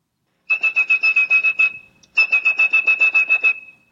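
A person whistles pure, high telephone tones into the phone network, producing two quick bursts of rapid, evenly spaced pulses with a short pause between them. The tones are loud and clear against silence.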